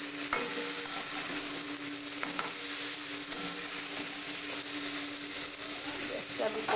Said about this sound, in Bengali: এই যে দেখুন ব্রোকলিগুলো আমার মোটামুটি ভাজা হয়ে গেছে